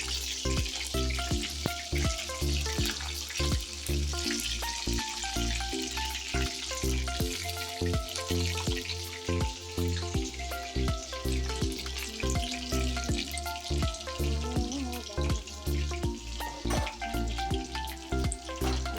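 Dried fish fries with onion, tomato and raw mango in a pan, a loud, dense sizzle that crackles continuously throughout with stirring noises and no talk.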